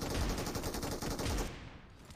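Shotgun fire in PUBG Mobile: a rapid burst of loud, punchy shots crackling for about a second and a half, then quickly fading out, with no talk.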